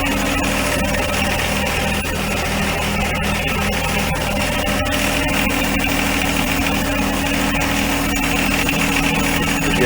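John Deere 1025R compact tractor engine idling during 200-hour maintenance, a steady close diesel drone with rhythmic vibration and clatter throughout, no voices.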